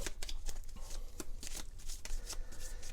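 Cards from a Dune: Imperium board game deck riffled and shuffled by hand, a steady run of crisp, close flutters and snaps repeating through the whole stretch with no talking.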